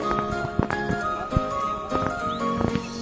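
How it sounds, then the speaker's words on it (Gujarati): A small pony mare's hooves clip-clop in uneven thuds nearby, alongside faint tonal sounds in the background. "તો આ મારા યશરાજભાઈનું કોની ઘોડી."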